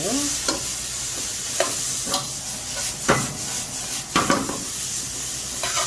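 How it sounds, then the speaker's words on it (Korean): Vegetables for japchae stir-fried in a pan, lightly seasoned with salt, with a steady sizzle broken by repeated scraping strokes of a spatula, close and moderately loud with no talk. "야채는 간이 심심하다 할 정도로 볶아주시면 돼요"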